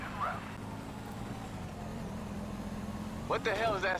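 A rattling car engine in GTA 5 Online drones with a low, steady hum, mid-distance, with a voice speaking briefly at the start and again near the end.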